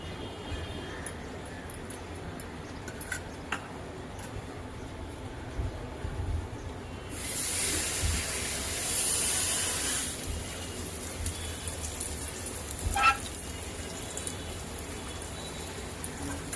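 Rice flour thalipeeth cooks on a hot griddle as oil is drizzled around its edges, giving a faint, soft crackling sizzle that swells into a brighter hiss for a few seconds midway.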